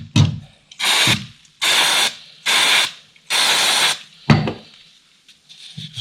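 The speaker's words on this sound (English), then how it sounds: "Let's see what brake cleaner does to half of this." Brake cleaner aerosol sprayed onto Kawasaki Z1000SX motorcycle brake pads in four loud hissing bursts of about half a second each, close up, bracketed by a few clunks and handling knocks.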